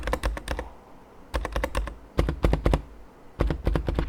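Keys clatter on a lightweight Logitech mechanical keyboard in quick bursts of crisp clicks with short pauses between them, close and clear, with no voices.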